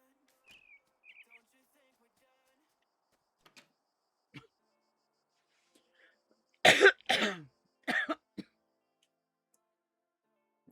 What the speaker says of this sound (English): Hang on, I got a cough.